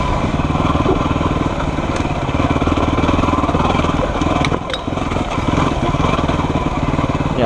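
A small motorbike rides a rocky, uneven trail, its engine buzzing loud and close with a rapid pulsing note, while the bike rattles and jolts over the stones.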